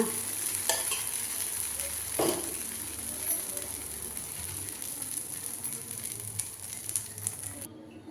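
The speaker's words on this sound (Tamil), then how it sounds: "பாருங்க தவா காஞ்சிருச்சு இப்போ நான் வந்து தோசை ஊற்றுறேன்" Beetroot dosa batter sizzling and frying on a hot tava, a steady close crackle with occasional scraping stirs, no speech.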